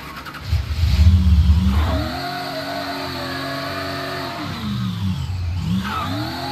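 A car driven in the game Mafia III, its engine revving hard as it pulls away, then settling into a steady cruising drone, with pitch rising and falling through gear changes and a fresh rev near the end.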